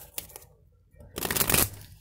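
Tarot cards are shuffled by hand, giving a couple of light flicks and then a dense, close riffling burst lasting about half a second.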